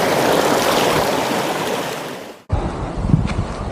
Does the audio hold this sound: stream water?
yes